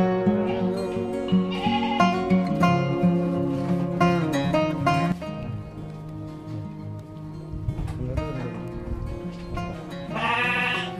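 Many goats at a goat supplier's farm in Lampung bleating in a noisy overlapping chorus, loud and close, calls rising and falling continuously throughout.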